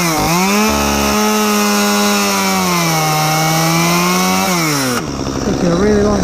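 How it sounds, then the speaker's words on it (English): A chainsaw engine drones loudly and steadily as it splits firewood lengthwise, its pitch dipping and rising under load before shifting near the end. "if you want to split wood in half with a chainsaw, you see some people doing it like this"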